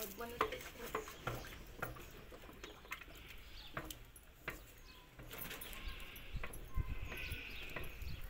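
A thick cooking mixture of jowar flour is stirred slowly in a pot, giving soft scraping and clacking strokes at an irregular pace over a low bubbling background, close and fairly quiet.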